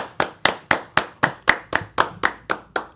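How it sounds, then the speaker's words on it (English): Steady single-person clapping, about ten evenly spaced sharp claps in a regular rhythm, close and fairly loud, given as a round of applause on a sports talk show. "round of applause"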